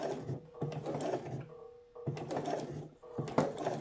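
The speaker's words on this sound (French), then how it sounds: "l'on va laisser l'aiguille enfoncer ici et on vient coudre notre petite diagonale" A sewing machine stitches a diagonal topstitch on trousers, running in short bursts with a brief pause in the middle, close and moderately quiet.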